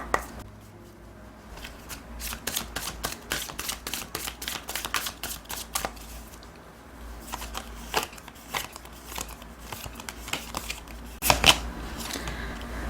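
Tarot cards are shuffled by hand in a steady run of crisp riffling snaps, close and fairly loud, with a brief pause and a sharper flurry near the end; no one speaks.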